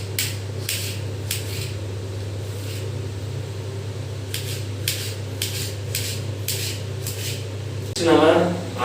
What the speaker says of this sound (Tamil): நெக்ஸ்ட்டு நம்ம தக்காளியெல்லாம் கட் பண்ண போகிறோம்